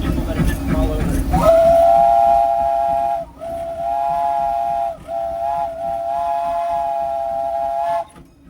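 A loud Disneyland Railroad steam train whistle blows in long sustained blasts with brief breaks, preceded by rumbling railway noise.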